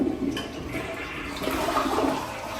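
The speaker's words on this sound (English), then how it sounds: "And toilets flush." A toilet flushes in a new home's bathroom, a loud, close, continuous rush of swirling water that holds steady for the whole stretch with no voices over it.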